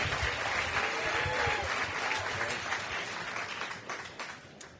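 Audience applause in a theatre at a Moth storytelling event greets Bryan Kett, a dense, steady wash of many hands that stays full for several seconds before thinning slightly at the end.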